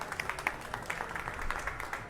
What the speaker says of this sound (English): Please give a round of applause to Prashant.